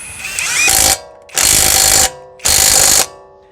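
A cordless impact wrench works a car wheel lug nut in three loud, close bursts of rapid hammering, each lasting about half a second with short pauses between.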